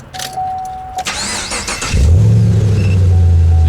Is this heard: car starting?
yes